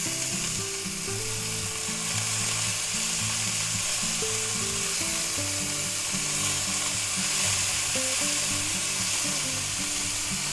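Sirloin steak frying in butter in a pan gives a steady, close crackling sizzle throughout, with music playing underneath and no talking.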